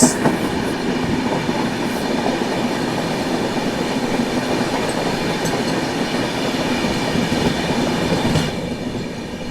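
The Mumbai CSMT–Nagpur Duronto Express rolls along the rails, heard from inside as a steady, moderately loud rumble with faint wheel clatter and occasional squeals, without talk.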